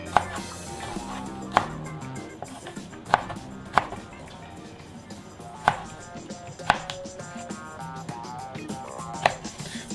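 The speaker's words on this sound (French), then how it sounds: "Je vais aussi couper certains gros radis plutôt en diagonale pour avoir des tranches allongées." A kitchen knife cuts large radishes into diagonal slices on a board, giving sharp, regular chopping knocks every second or so over a quiet background, with no talking.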